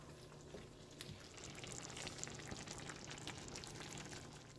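Chicken tinga sauce simmers in a pan and is stirred, giving a soft, steady bubbling and sizzling with faint scraping throughout.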